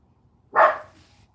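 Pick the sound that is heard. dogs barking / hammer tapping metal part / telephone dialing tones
dogs barking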